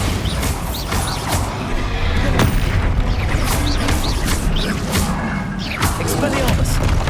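The Bombarda spell goes off in Hogwarts Legacy amid a battle against dragons and goblins, with loud, dense booms and crashing impacts piling up over a constant roar of game combat. A voice is talking over the blasts.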